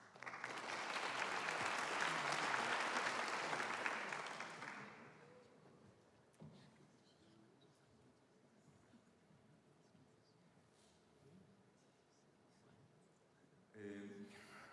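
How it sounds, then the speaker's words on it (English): An audience claps loudly for about five seconds, then the applause dies away into quiet room noise, with a voice starting near the end. "A round of applause, please."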